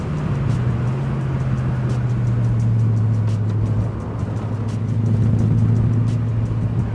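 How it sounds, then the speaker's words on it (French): A 2003 Morgan Plus 8 35th Anniversary roadster's V8 engine drones steadily while driving, a low continuous rumble with a slight pitch dip and rise as the revs shift, loud and close throughout. "C'est vrai qu'on prend vite goût avec ce V8 à ce bruit"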